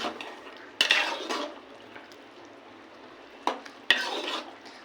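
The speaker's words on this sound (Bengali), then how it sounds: "আবার একটু নেড়ে চেড়ে নেব" Lentil fritter curry is stirred in a pot: a few loud metal knocks and scrapes from a spoon against the pot come in two clusters, with quieter stirring between them. No one speaks.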